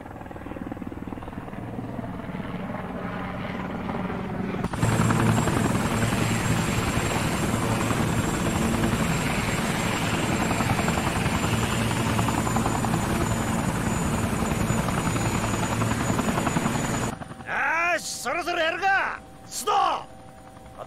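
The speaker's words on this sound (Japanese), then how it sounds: "新聞社の活動に警視庁のヘリコプター使うなんて何考えてるんですか" Police helicopter flying overhead in Yakuza 4 Remastered: a loud, steady rotor drone with a sharp onset that holds throughout, then abruptly cuts away, followed by brief speech-like vocal sounds.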